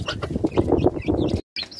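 A broody hen clucks steadily beside her growing chicks, dense overlapping clucks and soft chirps close by, then a brief pause before more calls resume.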